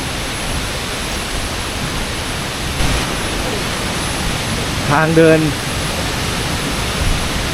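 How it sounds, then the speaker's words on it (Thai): Wachirathan Waterfall in Doi Inthanon National Park, Thailand, roars in the rainy season as a constant broadband rush, loud and close, while someone briefly speaks over it. "น้ำตกไหลลงมาข้างล่างนะครับ"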